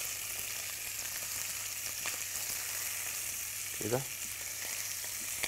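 Mullet fish frying in oil in a pan, a steady dense sizzle throughout with a brief clatter as the fish is flipped near the end; a single short word is spoken.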